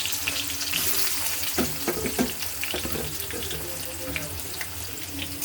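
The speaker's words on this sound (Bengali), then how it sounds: "পেঁয়াজটাকে এবার একটু সুন্দর করে লাল লাল করে ভেজে নেব" Chopped onion fries in hot oil with a little garlic in a pan, giving a continuous sizzle and bubbling along with a few sharp clicks and scrapes, near and fairly quiet, with no talking.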